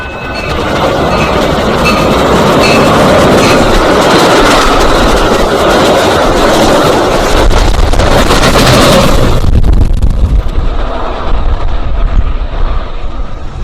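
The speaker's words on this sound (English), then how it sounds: "Another inbound Metra." Inbound Metra commuter train passing Stone Avenue Station in LaGrange, Illinois, a loud close roar and rumble of railcars rushing by with rattling clatter, then fading away, no talk.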